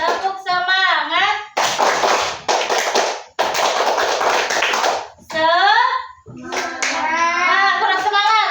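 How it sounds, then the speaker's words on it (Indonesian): Classroom group doing rhythmic 'tepuk semangat' spirit clapping: two long bursts of dense, loud, patterned hand claps, framed by a teacher's voice and children's chanting before and after. "Tepuk semangat."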